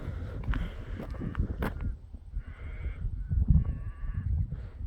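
Several sheep bleat close by along a rural rail trail between Koroit and Port Fairy, with repeated wavering calls over shuffling footsteps and outdoor noise.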